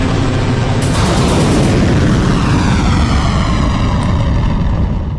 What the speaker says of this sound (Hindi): सन्नाटे को चीरती मिसाइल का शोर हुआ।